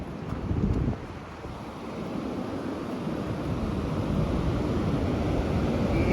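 Sea waves wash against the shore in a steady, rushing roar, heavily mixed with buffeting wind noise on the microphone and a slightly louder gust at the start, with no voices.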